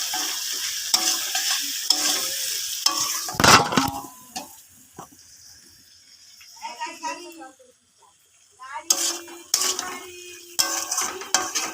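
Masala slow-frying in a pan, stirred with a utensil, sizzling and scraping in bursts with clinks of metal, fading to a quieter patch before the stirring picks up again, with a voice talking over parts of it.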